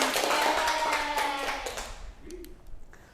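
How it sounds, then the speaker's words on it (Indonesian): Classroom students clapping together during a microteaching lesson: a dense burst of hand claps that fades and thins out into a few scattered claps, with some faint voices mixed in. "tepuk tangan"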